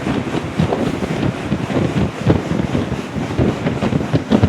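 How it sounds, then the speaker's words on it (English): Air bike fan on a wrestler's bike roaring steadily and loudly through an all-out 20-second sprint, a dense continuous whoosh with pulsing surges from hard pedaling. "We're going to have DJ go all out for 20 seconds using a bike setup here, wrestler's bike"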